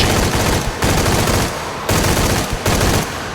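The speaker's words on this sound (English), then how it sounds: "Machine gun." Loud machine gun fire in the Shadow of the Tomb Raider video game, four sustained bursts separated by short gaps, close and dominant with no talk.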